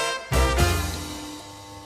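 A neon sign gives a steady electrical hum with many stacked harmonic tones, starting after a brief louder thump and continuing evenly, close and fairly faint.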